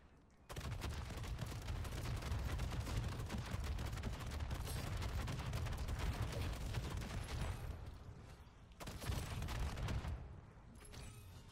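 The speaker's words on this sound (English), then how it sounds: "See what you mean about the fire rate with the shotgun, right?" Shotgun blasts in a video game during a solo rift run: a rapid, continuous barrage of booming shots, fairly faint overall, with a brief pause near the end before another burst.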